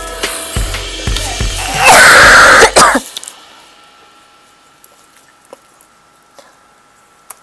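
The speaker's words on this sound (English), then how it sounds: "Sorry if I cough so much." A person coughs several times in close, loud bursts lasting a few seconds, with a throat-clearing rasp among them, then falls quiet apart from faint small background noises.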